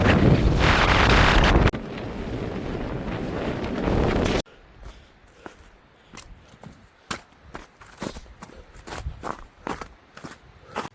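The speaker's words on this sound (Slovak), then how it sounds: "Ten vietor sa tak opiera, že to je dovidenia." Strong wind on the Malá Fatra mountain ridge roars loudly against the microphone for about four seconds, then cuts out, leaving quieter intermittent crunching footsteps on the trail.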